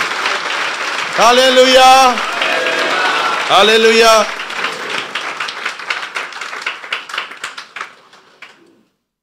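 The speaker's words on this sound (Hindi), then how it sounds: "हम उसके लिए जोरदार तालियां मारेंगे" A congregation at a Resurrection Day church service applauds loudly while a voice shouts out twice over the clapping, then the applause thins into scattered individual claps that fade out and stop.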